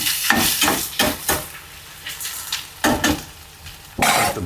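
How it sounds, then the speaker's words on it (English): Onions sauté in a pan with melting butter, a soft sizzle beneath a series of sharp scraping and stirring clatters from a utensil against the pan. "The onions are just starting to get translucent where they're starting to saute, so we're going to add a little bit of butter to this"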